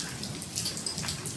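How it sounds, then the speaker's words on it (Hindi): Steady rain falls during a sudden downpour, a soft, faint patter of drops hitting surfaces with occasional brighter splashes, continuous and without any voices. "अचानक से बारिश शुरू हो गई"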